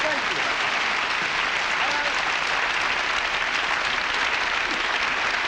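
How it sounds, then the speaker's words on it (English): A studio audience applauds steadily on The Flip Wilson Show in 1973, dense clapping filling the whole stretch at an even level. "Please applaud. Please applaud."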